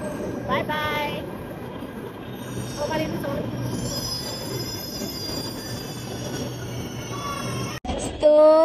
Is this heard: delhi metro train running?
yes